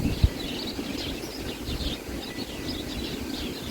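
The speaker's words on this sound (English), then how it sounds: "the wind and the birds" Birds chirping intermittently in a backyard, thin repeated calls over a steady low rush of wind and distant rumble, fairly faint and outdoors.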